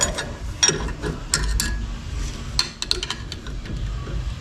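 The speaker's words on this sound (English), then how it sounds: "Now we can continue pressing this the rest of the way out." A 42RE transmission bushing is pressed out using a 1/4 inch socket and extension, with faint metallic creaks, ticks and scattered clinks over low rumbling background, close-up and quiet.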